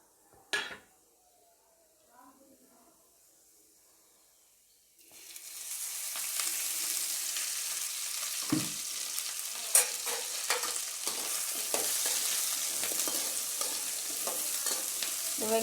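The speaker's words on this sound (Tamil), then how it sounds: "இந்த சின்ன வெங்காயத்தை நல்லா எண்ணெய் ஊற்றி வதக்கி எடுத்துக்கலாம்." Small shallots, about a quarter kilo, sautéing in oil in a pan: a brief clink and near-silence, then a steady bright sizzle with utensil scrapes and stirring knocks.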